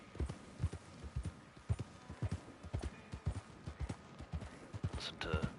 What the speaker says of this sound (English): just to hear those horse hooves hitting the ground